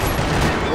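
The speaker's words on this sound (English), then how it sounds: "Another parking lot rattling with gunfire." Dense gunfire from the video game Max Payne 3 rattles continuously, loud and close, with rapid overlapping shots forming a constant roar.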